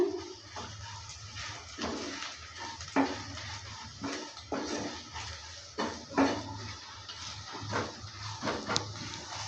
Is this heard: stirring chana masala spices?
yes